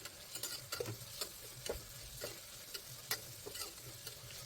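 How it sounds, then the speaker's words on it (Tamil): Sliced onions sizzle in hot oil in a pan while being stirred for a vegetable biryani, with a soft continuous fry broken by repeated scraping and clinking of the spoon against the pan. "பெரிய வெங்காயத்தை நீல வாக்கில் கட் பண்ணி வச்சுருக்கேன். அதையும் இது கூட போட்டு நல்லா வதக்கிக்கலாம்."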